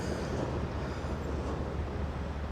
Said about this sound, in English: I don't think I've ever seen a train come through a town quite that slow.